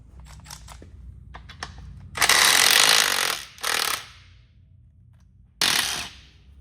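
An impact gun on a car engine rattles loose the cam bolt and crank bolt, with a few quick clicks first, then a loud sustained hammering burst, a shorter second burst, and a final brief blast, all close.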